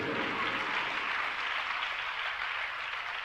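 An audience claps through a steady wash of applause at a Jain religious discourse, sustained and even throughout, with no voices over it.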